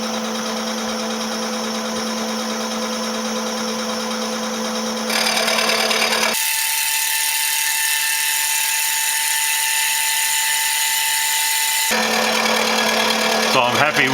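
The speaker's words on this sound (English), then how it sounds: "So I'm happy with the way that cutter's operating." A CNC-controlled cutter mills metal on a drill press, its steady high-pitched whine and grinding running continuously, shifting tone as the cut changes, loud and close with no talk.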